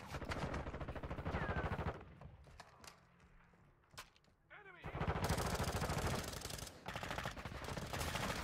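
Automatic gunfire in the video game Modern Warfare 2, bursts of shots clustered at the start and again loudly in the second half, with a quieter gap between and game sounds throughout.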